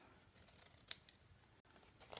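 A single crisp snip of scissors rings out near the close, with a couple of fainter cuts after it against a quiet room background.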